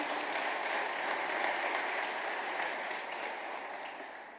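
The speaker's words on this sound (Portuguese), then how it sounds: "Um aplauso pela palavra do Senhor." A church congregation claps together in a dense, sustained round of applause that fades slightly toward the end.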